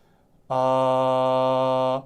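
A single low sung note held steadily for about one and a half seconds, full and chesty, with no words and nothing else around it.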